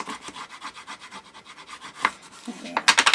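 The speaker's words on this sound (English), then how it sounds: "just burnish the top, okay, and the side" Paper on a photo album being burnished by hand, a close, rhythmic series of quick rubbing strokes that speed up and grow louder near the end.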